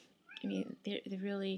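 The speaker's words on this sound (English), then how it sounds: "That's my cat jumping up." A house cat meows several times close by, drawn-out mewing calls overlapping a person speaking.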